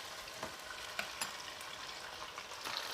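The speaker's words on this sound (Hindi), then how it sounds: "प्याज के साथ चिकन को भूनना है" Chicken frying with ground onion in a karahi gives a steady, fairly quiet sizzle with occasional sharper crackles and scraping stirs, and no one speaks.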